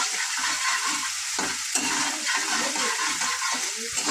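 Ginger and chili paste fries with a steady sizzle in a pan while a utensil stirs it, giving irregular scraping strokes close by; no voices.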